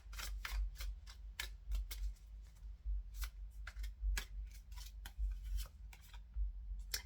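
Tarot oracle cards being shuffled by hand, a quick run of crisp riffles and slaps repeating irregularly, close up and fairly quiet over a low steady hum, with no talking.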